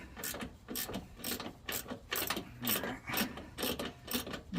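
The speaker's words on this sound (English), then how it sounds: "I'm going to use the ratchet on this side, or excuse me, the electric, to break that one free" An electric ratchet rattles in rapid repeated bursts while breaking a front shock bolt free on a lifted 4x4 Astro Van, close and fairly quiet, with short pauses between the clattering runs and no talk.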